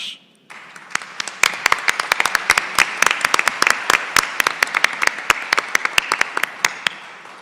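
A crowd applauds steadily, dense clapping with sharp individual claps standing out, sustained throughout after a brief quiet start.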